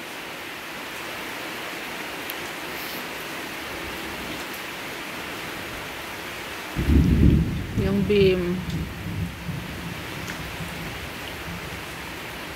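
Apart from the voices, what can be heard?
thunder and rain during a thunderstorm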